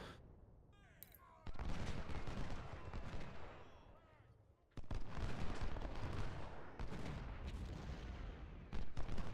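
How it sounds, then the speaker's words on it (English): Bursts of musket and artillery fire from a Civil War battle in the strategy game Ultimate General: Civil War crack out in loud volleys, dying away and then returning in heavy, rolling waves. "It sounds like the Union can still see us and shoot us."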